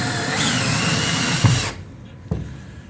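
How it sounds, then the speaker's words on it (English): A loud, close power drill whines steadily for a second or two while drilling a small hole for a D-ring and motorcycle bracket, then stops, followed by a couple of brief knocks. "I'm just going to drill a small hole"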